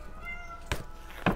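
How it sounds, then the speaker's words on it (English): A cat meows twice at dawn, asking to be let outside: two short, fairly close calls about half a second apart over quiet room tone, with no talking. "Now the other kitty wants to go out because it is 5:30 in the morning"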